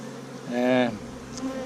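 A honey bee colony hums during a hive inspection, with one bee's buzz swelling briefly close by over a softer background drone.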